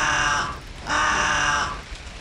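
A raven in the point-and-click game 9 Clues 2: The Ward lets out two loud, harsh caws, each about half a second long, separated by a short pause.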